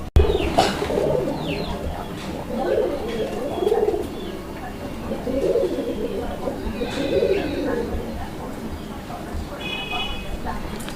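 Pigeons coo in low, repeated rolling calls throughout, with occasional chirps and a person talking over them.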